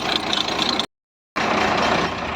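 A steady Ursus 1614 tractor engine drones loudly and continuously while plowing, cuts out briefly to silence, then resumes at the same level.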